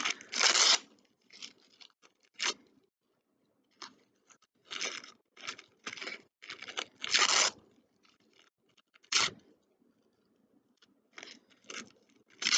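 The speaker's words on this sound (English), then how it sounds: "one more piece to rip into smaller pieces" An apple piece being ripped into smaller bits by hand, a series of short crisp tearing and crunching bursts separated by quiet pauses, close and fairly faint.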